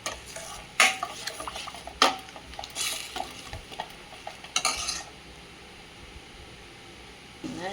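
Tamarind mixture sautéing in a pan, stirred with sharp scraping clinks of a utensil against the metal over a soft, steady sizzle, with a few louder stirring strokes early on before the pan settles to a quieter fry.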